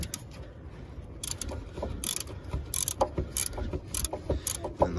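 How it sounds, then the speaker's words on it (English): A ratchet clicks in quick bursts while loosening a 12 mm alternator bracket bolt on a 2003 Honda Civic, the close metallic ratcheting repeating several times over a quiet background. "you can come down here and take this, loosen this 12 millimeter bolt"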